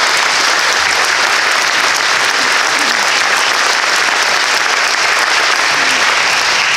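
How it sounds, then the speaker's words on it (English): A school district gathering bursts into loud, sustained applause, a dense wash of clapping from a large crowd filling the room without pause. "So how about a round of applause for this district,"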